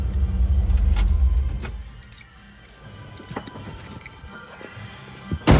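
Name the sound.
1957 Chevrolet Bel-Air engine being shut off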